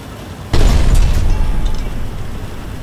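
Enemy shots striking a battleship in the war game Foxhole, one sudden loud booming impact that rumbles on and slowly fades, with a few faint metallic clanks after.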